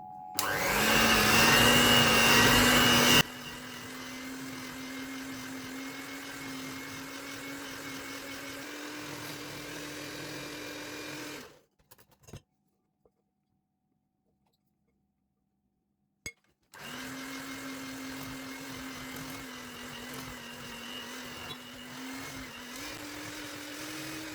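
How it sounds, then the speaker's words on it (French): Electric hand mixer whisking cream, a steady motor whine heard close, very loud for the first few seconds and then quieter, stopping in the middle for a short silence before starting again and running to the end. "J'ai besoin de mon batteur électrique, voilà, ou bien vous pouvez le faire au robot, hein. Mais il faut bien fouetter pour obtenir une bonne crème."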